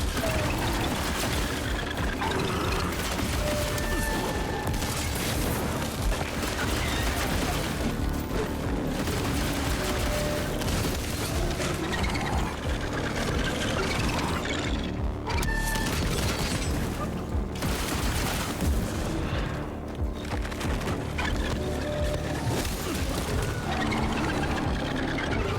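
Dense, continuous gunfire and booming blasts from Evil West fire in rapid volleys for the whole stretch, loud and chaotic with mechanical clanks, while players' voices chatter beneath.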